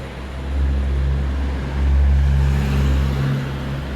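Traffic rolls along a main street in the town of Agios Nikolaos, Crete, with a loud, deep engine rumble that swells and eases as vehicles pass nearby.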